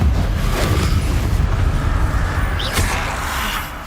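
A Confringo blasting spell explodes in Hogwarts Legacy, a loud, sustained low boom and rumble that fills the moment and slowly fades, with a brief sharp crack near the end.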